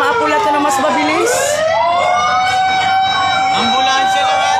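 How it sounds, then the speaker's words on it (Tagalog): An emergency siren wails loudly and close on a Manila street during a fire in Sampaloc, sweeping up and down in long glides while voices talk over it. "Ambulansya lang ata eh."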